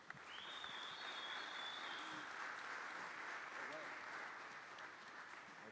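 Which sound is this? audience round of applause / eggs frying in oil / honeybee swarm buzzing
audience round of applause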